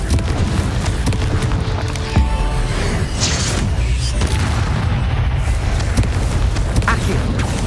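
Confringo spell explosions in Hogwarts Legacy, a dense, loud run of booming blasts and crackling impacts with heavy low rumble throughout and no clear gaps.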